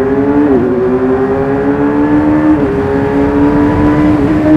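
A Kawasaki Ninja 1000SX sport-tourer motorcycle pulls hard on the Autobahn, its engine note loud and close, climbing steadily in pitch with brief dips at gear shifts, wrapped in wind rush.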